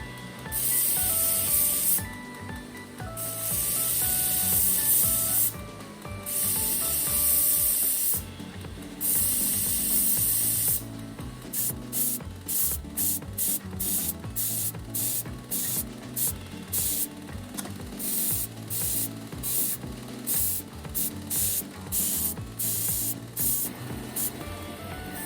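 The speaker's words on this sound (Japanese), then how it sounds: "細く切ったベルトで角を取りながら形が崩れないように磨いていきます" A narrow grinding belt polishes and rounds the spine of a mirror-finished V-Gold No. 10 kiritsuke-style sujihiki kitchen knife, giving a loud, steady, close hiss that turns into rapid rhythmic pulsing passes.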